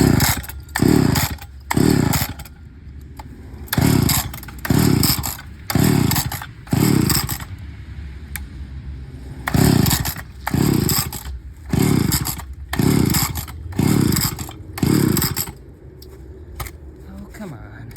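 An old McCulloch 10-10A chainsaw engine runs in a rapid series of short, loud revving bursts with brief drops between them, about a dozen bursts in a loose rhythm.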